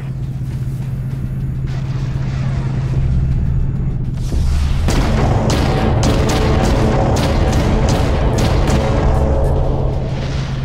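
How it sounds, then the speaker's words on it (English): Artillery fire in the naval combat game Dreadnought opens with a heavy boom over a low engine drone, followed by a string of sharp, loud blasts at a fairly steady pace. "Engaging artillery."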